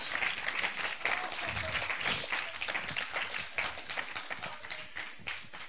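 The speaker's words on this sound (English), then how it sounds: "Give him a hand clap of praise." A church congregation claps hands in praise during a sermon, a dense, lively patter of many hands that stays steady throughout, with no speech over it.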